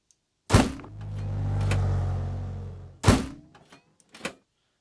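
A robot sound effect built in Krotos Igniter: sharp mechanical thunks bracket a sustained low motorized whir, followed by a second clunk and a couple of smaller clicking servo-like hits, close and dry.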